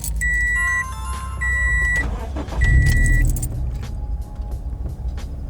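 Dashboard chimes beep a few times, then a Toyota 86/Subaru BRZ engine running E85 fuel cranks and catches with a loud rumble, settling into an uneven idle.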